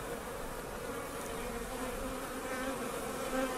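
Spring honeybees, water carriers among them, hum in a thick, continuous buzz close at hand, steady and slightly swelling toward the end, alone with no voices.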